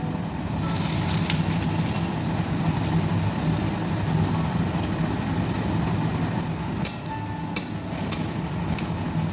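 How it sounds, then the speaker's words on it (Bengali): Grated coconut fries in hot oil in a wok, giving a steady, dense crackling sizzle throughout, with a few sharper pops near the end. "আমি কড়াই তেল দিয়ে দিয়েছি, আমি এখানে নারকেলটা ভেজে নিচ্ছি।"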